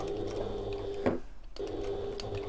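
Sewing machine running steadily while top stitching an evening bag, a continuous mechanical whir that stops briefly with a soft clunk as the needle pivots at a corner, then resumes.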